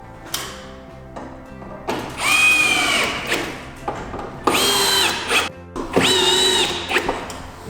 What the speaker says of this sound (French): Et maintenant il faut revisser la rive.